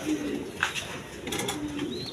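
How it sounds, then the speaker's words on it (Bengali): Breeding pigeons kept for eggs and chicks coo softly nearby, a couple of low, brief calls over a quiet, faintly noisy room. "ডিম বাচ্চা করানো কবুতর"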